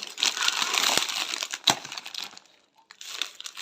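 Crinkly snack packaging being torn open and handled, a busy stretch of close plastic crackling and rustling with a brief pause before more crinkles resume, no talk over it.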